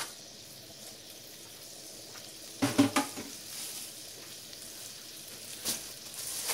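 A single onion frying in hot butter, a quiet steady sizzle broken by a burst of clattering and stirring near the middle and a brief knock later, with no talk.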